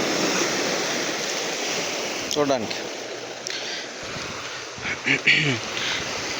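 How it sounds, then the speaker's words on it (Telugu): Sea waves wash against rocks on a shoreline as a constant roaring rush of surf. A person speaks briefly over it. "అలలు అలా వచ్చి ఈ రాళ్ళని తాకినప్పుడు, అలా ఎగిరినప్పుడు ఆ దృశ్యం బాగుంటుంది"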